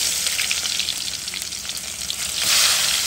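Onion hits hot oil in a pan and fries with a dense, crackling sizzle, loud and close, swelling slightly louder near the end, for a Bangladeshi dried-fish curry with eggplant.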